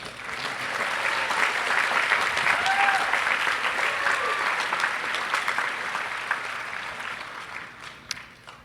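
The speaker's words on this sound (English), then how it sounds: "A final applause for these individuals." A commencement crowd at UC Santa Cruz gives a long, full round of applause with faint cheering mixed in, swelling early and slowly tapering toward the end.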